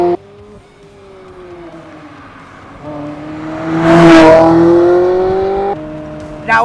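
A Ferrari 360 with a gated manual gearbox revs up through its gears, the engine note climbing and dropping at each shift, swelling to a loud, close peak midway before easing and rising again.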